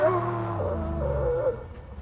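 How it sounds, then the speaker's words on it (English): A dog in the Mad Max video game yaps and whimpers at a buried mine, a run of high, tonal yelps that rise and fall, fairly close and moderately loud, fading toward the end. "He's just yapping. I love he's just yapping at the mine."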